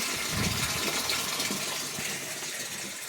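Water swirls and gushes steadily inside a bulk storage tank as a current mixes in fertilizer, with a continuous loud rushing wash and no voices.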